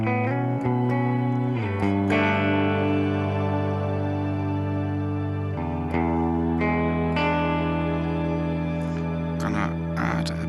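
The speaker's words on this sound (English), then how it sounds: "Going to bring in some shimmer with that." Clean electric guitar through a compressor and shimmer reverb, played via an IK Multimedia ToneX pedal into a BOSS GT-1000: sustained, layered chords ring out with a bright, washing tail, changing chord every few seconds and heard alone.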